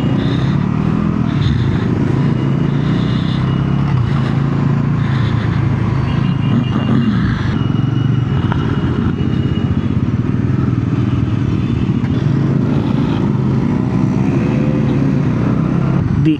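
A Bajaj Pulsar NS400Z motorcycle is ridden on a highway between Jamshedpur and Ranchi. Its engine drones loud and steady throughout, mixed with heavy wind rush and no pauses.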